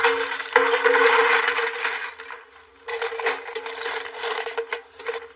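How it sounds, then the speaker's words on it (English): Clay crocks clatter into an old basin as drainage for potting, a run of dense hard knocks and scrapes for about two seconds, a brief pause, then more clinking and settling, close and fairly loud. "Now, I've got some crocks here, and pebbles would do, or small stones, just to make sure those holes don't get clogged."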